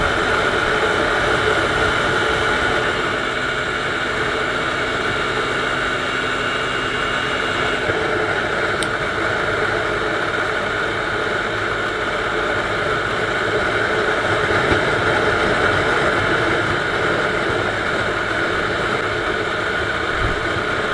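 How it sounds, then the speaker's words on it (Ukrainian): A Viper 200 Chinese motorcycle engine drones steadily under load, climbing a hill at 100 km/h in third gear for the whole stretch, mixed with loud rushing wind noise and no talking. "китайський мотоцикл Viper 200 їде сотку на третій передачі під горку"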